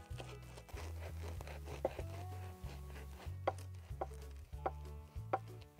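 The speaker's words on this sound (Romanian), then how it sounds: "o să tai ciabata în două" A knife slicing a ciabatta loaf in half, a series of close, quiet crunchy sawing strokes with short pauses, then a few sharper taps against the board.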